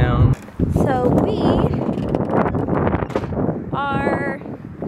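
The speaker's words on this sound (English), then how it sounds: "it's windy, you might not be able to hear us" Gusty wind buffets a microphone outdoors on a town walkway, loud rumbling bursts mixed with people talking over it.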